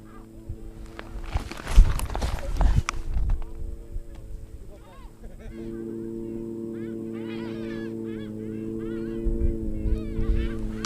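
Fowl honk and call repeatedly while being fed out on a frozen lake during an ice-fishing trip, several calls close by over a steady low hum, with shuffling and bumping noises early on.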